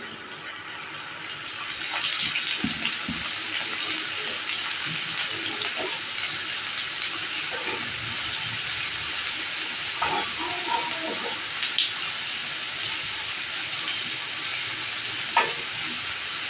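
Onions fry in ghee on a tawa, making a steady sizzle under faint kitchen clatter and small scraping knocks, with no voices.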